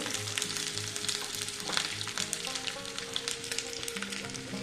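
Ginger frying in white cooking oil for a paneer dish gives a steady, dense sizzle that stays close and even throughout, with faint low tones underneath and no talking.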